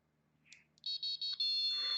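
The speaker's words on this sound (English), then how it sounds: "that's the Star Wars theme tune playing on a MicroBit" A BBC micro:bit buzzer beeps out a few thin, electronic tones of the Star Wars theme, short tones then a sustained one, close and clear with no talking.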